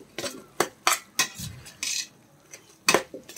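A spoon stirs spice powders in a pan, giving a series of separate metallic scrapes and clinks, close by, with quiet gaps between strokes and only a faint sizzle beneath.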